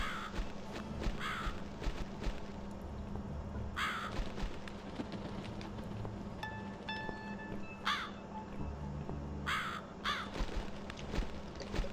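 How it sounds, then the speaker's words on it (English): A crow caws repeatedly in The Cat Lady video game, in harsh separate calls spaced a few seconds apart over a low, steady ambient drone, with a faint high ringing tone partway through and no speech. "Follow the crow."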